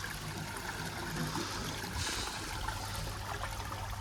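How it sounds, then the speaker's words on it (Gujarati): Water rushes and trickles steadily from an opened irrigation valve in a cotton field, a constant flowing hiss close by. "જુઓ પાણી આવી ગયું."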